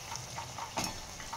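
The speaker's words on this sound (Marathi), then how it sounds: "दोन्ही पुऱ्या आपण व्यवस्थित तळून घ्यायच्या।" Methi puris deep-frying in hot oil, a faint, steady sizzle with small crackling pops and one brief louder burst midway.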